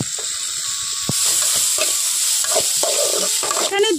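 Chopped onion hits garlic and nigella seeds frying in hot oil, giving a close, steady sizzle with a few scraping stirs and a short metallic clatter near the end, with no voices.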